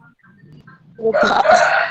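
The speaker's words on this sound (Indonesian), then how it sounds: "suara ayam." A chicken crows in one loud, harsh burst lasting under a second, following a brief stretch of faint background murmur.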